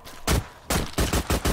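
Rapid bursts of gunfire from shooting zombies in a blocky Minecraft-style Call of Duty Zombies video game, five loud broadband blasts spaced in a quick uneven rhythm, with no talking.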